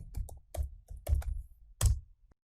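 A password being typed on a computer keyboard: a short run of crisp key clicks in an uneven rhythm, close and clear, ending in a louder final keystroke, with no talk.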